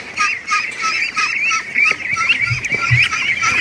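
Ducks and ducklings calling in a busy hatching area, a dense run of high, rapid peeps and quacks with a couple of low honks near the end, close and continuous.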